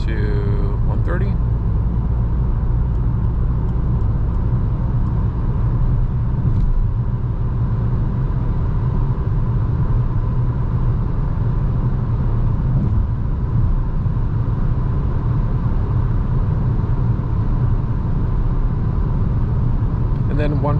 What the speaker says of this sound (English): there's more wind noise just because of the car shape